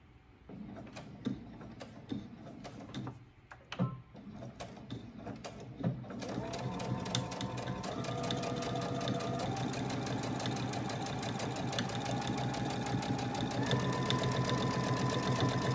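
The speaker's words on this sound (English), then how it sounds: "I'm placing it in the 1 inch mark, and I'm gonna sew all the way through." A sewing machine stitches a seam at a 1-inch allowance, starting with a few hesitant clicks and bursts before settling into a steady, rapid mechanical whir that rises in pace.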